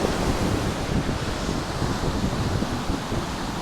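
Sea waves roll in at Hawks Bay beach in Karachi, a loud continuous wash of surf blended with blustery wind buffeting the microphone.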